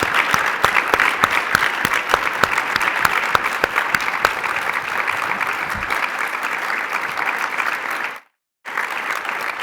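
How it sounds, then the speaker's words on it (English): Audience applause for a panel of congressional staffers at a conference: dense, sustained clapping from a crowd, with a brief dropout near the end before it resumes. "So if we could give them a big round of applause."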